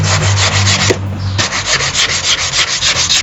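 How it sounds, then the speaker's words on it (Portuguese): Sandpaper rubs rhythmically over a wooden edge to refine its finish, loud close scratchy strokes repeating in a steady back-and-forth pattern with no voices. "Com a lixa eu consegui refinar ainda mais aquele acabamento aqui dessa borda"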